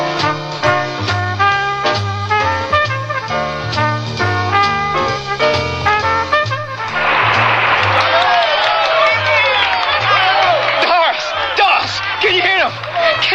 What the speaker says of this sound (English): Can you hear that applause?